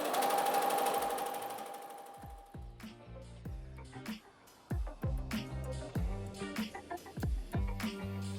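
A Halo-100 embroidery machine starts up and stitches, a fast mechanical whir and rhythmic needle chatter that runs in close, uneven bursts after a brief beep.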